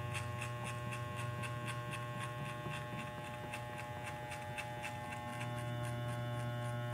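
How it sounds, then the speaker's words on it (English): Electric hair clippers detailing a fade on curly hair, a steady close buzz with a strong mains-like hum running unbroken throughout, slight shifts in tone as the blade corners work the hairline, no talking. "You can see I'm using my corners of the clipper just to get rid of dark spots"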